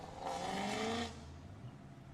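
An autocross car on the track at Laguna Seca roars loudly with its engine revving for about a second, then drops to a quieter, distant hum.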